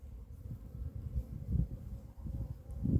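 Honeybees hum steadily around a hive in a low, continuous drone that swells and dips, close by with no talking.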